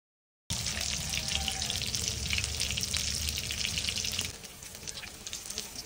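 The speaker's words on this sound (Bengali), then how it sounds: "তেল গরম হয়ে গেছে, এবার আমরা সর্ষের বড়াগুলা একটা একটা করে তেলে ছেড়ে দেব।" Mustard fritters frying in hot oil, a close, steady hiss and crackle that drops somewhat in level partway through.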